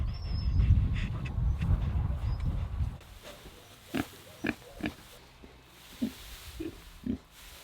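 Pigs on a small farm give a few short, separate grunts with pauses between them, close by and moderately loud, following a stretch of low rumbling background noise at the start.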